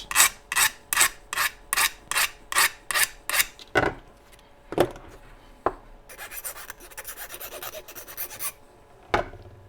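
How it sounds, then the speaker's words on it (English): A file rasps across a 3D printed landing gear strut in about ten quick, even back-and-forth strokes, close and crisp, followed by a few slower scrapes and light handling knocks. "go ahead and use either a file or some sandpaper just to"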